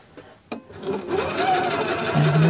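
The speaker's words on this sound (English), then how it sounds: "Let's start stitching." A sewing machine sews a twin needle hem on medium weight knit fabric, starting with a couple of soft clicks and then running into a steady, fairly slow mechanical whir with a faint voice underneath.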